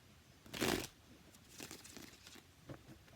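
A quick riffle of cards being shuffled, a short loud burst followed by softer flicking and rustling, close and quiet.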